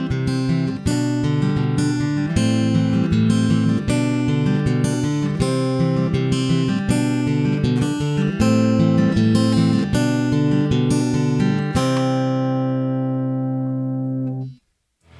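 Fingerpicked guitar pattern played at a slightly quicker pace, steady plucked notes with ringing chords for about twelve seconds before a final chord rings out and decays alone.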